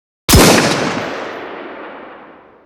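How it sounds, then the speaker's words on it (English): Raw sniper rifle shot effect: a single loud, close crack with an abrupt attack followed by a long, gradually fading reverberant tail, heard alone. "First example is a sniper rifle."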